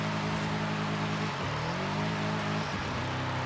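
A 2018 BMW M5 launches hard in the Forza Horizon 5 racing game, the engine droning loud and steady with two clear gear-shift dips as the revs climb again.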